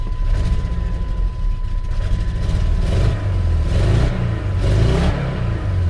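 A 1997 Chevy S10 pickup with a 2.2-litre engine, just back running after sitting a while, revs loud and close in a series of rising and falling surges over a steady idle, with no talking.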